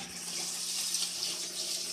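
Atlantic Ocean salt water pours steadily into a cooking pot for boiling lobster, a continuous close hiss and splash of running water with no voices.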